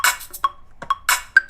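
An unwarped drum loop in Ableton playing out of time, giving short, uneven bursts of cymbal hits and drum strikes with irregular spacing, moderately loud and with no talk over it.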